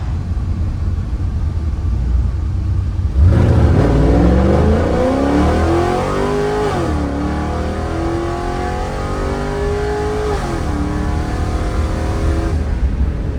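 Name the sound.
loud police car engine at wide open throttle on dyno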